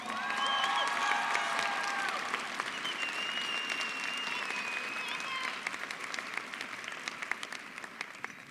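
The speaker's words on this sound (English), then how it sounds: "Please give Ms. Gemma Campa a round of applause." Sustained applause from a graduation audience, with dense clapping that starts full and slowly thins over several seconds. A voice speaks over the early part, and scattered cheers sound from the crowd.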